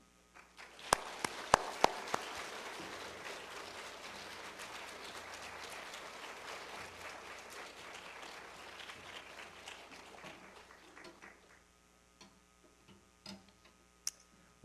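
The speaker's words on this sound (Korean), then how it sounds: "나오실 때 우리 환영의 박수 하겠습니다." A church congregation breaks into steady applause welcoming the pastor that swells, holds for several seconds, then tapers off into scattered claps.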